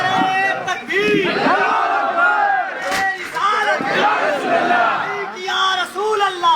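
A large crowd at a religious speech shouts a takbir slogan in loud, repeated unison chants, the rhythmic bursts of many voices filling the clip.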